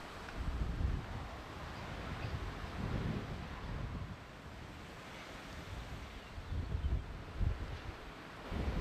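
Strong gusty wind buffets the microphone at a campsite along Norway's Lofoten coast, a continuous loud roar with surging blasts rising and falling throughout and no speech.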